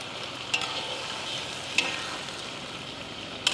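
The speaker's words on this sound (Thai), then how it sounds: "น้ำมันกระเด็นหอม ลงไปรวนเลยครับ" Wild boar pork belly stir-fried in hot oil with star anise and cinnamon, a steady close sizzle with occasional sharp spattering pops.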